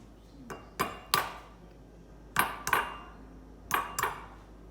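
Eggs cracked against a bowl rim for banana bread, sharp separate taps in small clusters, two or three knocks at a time with quiet gaps between, close and clear with no talking.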